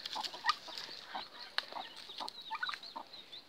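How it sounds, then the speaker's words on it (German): A hen with small chicks clucks in quick, uneven bursts, close by, with high chick peeps mixed into the soft, busy chatter. "Sie hat kleine Küken."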